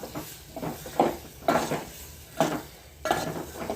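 Brinjal and green peas being stirred together in a pot, a series of spaced scraping and clanking strokes of a spoon against metal, roughly one every half second to second, close by.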